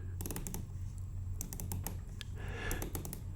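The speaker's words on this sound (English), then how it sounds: "And although it doesn't have the loud clicky click that some bezels do, it has a very solid feel" Bezel of a Sinn UX dive watch being turned, giving a run of small, tight, close-up ticks in quick irregular bursts, soft and muted rather than loud clicks.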